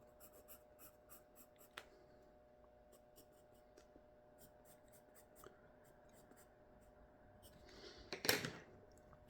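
A graphite B pencil scratches across paper in short, quiet strokes, faint and close, with one brief louder scrape near the end.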